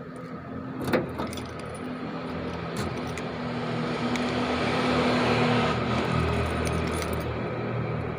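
Keys jangling near an engine or machine, with a metallic rattle and a sharp jingle early on over a steady low motor hum that grows slightly louder.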